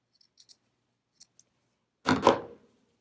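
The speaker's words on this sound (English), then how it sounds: "Just snipping those little sharp looking points off." Scissors give a few tiny snips at the points of a fabric bean bag frog, then make one louder, closer crunching cut that fades out in quiet surroundings.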